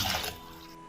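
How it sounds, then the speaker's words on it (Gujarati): Clean water is poured over boiled chickpeas to wash them, a brief close splash and gush that fades quickly into a faint trickle. "હવે આ જે ચણા છે એના અંદર આપણે ચોખ્ખું પાણી એડ કરશું અને આ ચણાને વોશ કરી લઈશું"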